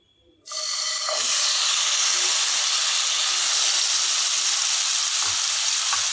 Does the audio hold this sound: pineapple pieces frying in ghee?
yes